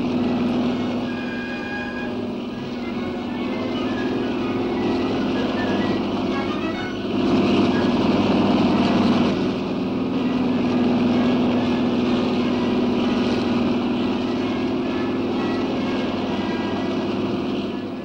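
Military helicopters of a squadron, Sikorsky, Agusta Bell and Bell types, taking off from the helicopter carrier Dédalo in 1966 for a simulated tactical exercise; a steady, loud rotor and engine drone with a low hum, swelling briefly midway.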